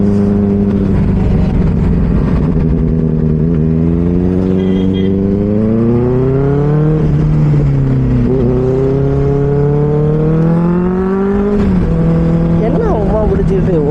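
A Benelli 600i motorcycle with an ixil X60 exhaust runs loud and close, its engine note rising and falling through several revs and throttle blips in a continuous deep drone.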